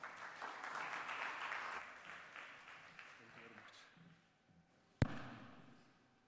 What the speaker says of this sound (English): Please welcome him with a nice round of applause.